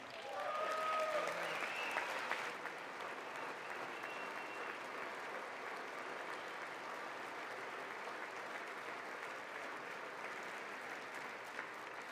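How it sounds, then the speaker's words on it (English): A political audience in a legislative chamber applauds a speech, with dense sustained clapping that is loudest in the first couple of seconds, then settles into a steady even roar that continues for the rest. "I wasn't sure if anybody even on this side was going to applaud for that."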